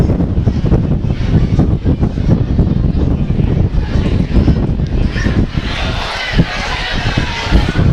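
Gusty wind buffets the microphone at an outdoor university soccer match between Douglas and UNB, a constant rough roar with a commentator talking over it throughout.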